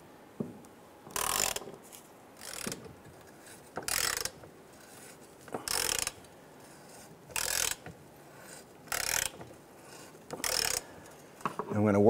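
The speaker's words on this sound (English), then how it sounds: "I'm going to work these bolts back in with some of that spray lube on those threads." A ratchet wrench clicks in short, regular bursts, about seven spaced a second or so apart, as it works bolts on the transmission mount of a 2005-2010 Chrysler 300, close and fairly loud with no talking.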